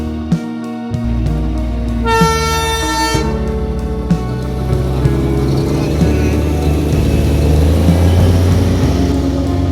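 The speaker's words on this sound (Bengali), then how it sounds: "তো ট্রেনটা আসছে, ট্রেনটা যখন আসছে তোমাদের সঙ্গে শেয়ার করছি।" Darjeeling toy train pulling into a station, its horn tooting in sustained, loud blasts with a pause near the start, over a steady rumbling engine drone.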